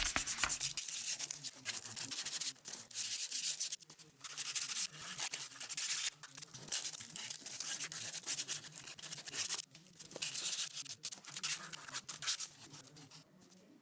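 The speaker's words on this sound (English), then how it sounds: "we're going to use a 150 grit sandpaper to square them up." Leather edges being squared with 150 grit sandpaper on a passport wallet, heard as close, bright scratchy rubbing strokes in short repeated bursts with brief pauses between them.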